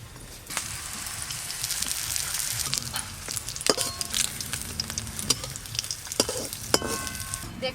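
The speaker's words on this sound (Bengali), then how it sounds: "এইগুলোও ভেজে নেব।" Food fries in hot oil in a pan, giving a continuous close sizzle broken by sharp pops and crackles, with no voices.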